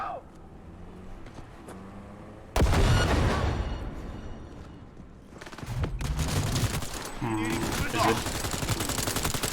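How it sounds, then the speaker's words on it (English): Grenade thrown and detonating in Cyberpunk 2077 combat, quiet ambience and a brief voice giving way to a sudden loud blast, then a second burst of rumbling explosive noise and gunfire-like crackle that carries on to the end. "let's try the new grenade"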